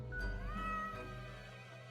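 A cat meows in the video game Death and Taxes: a single drawn-out, rising and falling call, close and clear over a steady low backing hum, with no talking.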